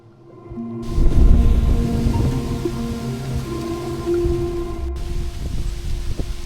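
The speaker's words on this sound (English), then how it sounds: "I think it's actually raining" Steady rain falling outdoors on a walking trail, a dense continuous patter that swells in and stays fairly loud and close, with no talking.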